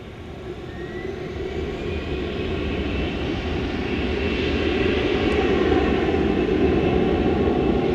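An American Airlines Airbus A321 takes off at Dallas Fort Worth airport at night, a steady, broad jet-engine roar that builds gradually in loudness with no talking.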